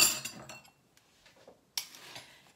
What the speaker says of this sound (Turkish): Şimdi tuz koyacağım.